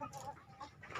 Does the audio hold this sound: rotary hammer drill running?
no